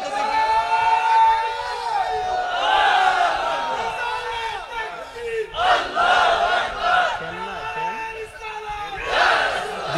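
Large crowd at an Islamic waz gathering chanting a slogan in unison, loud and near, with swelling rhythmic shouts and cheering that rise and fall over about ten seconds.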